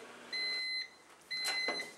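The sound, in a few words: microwave oven beeping while warming tortillas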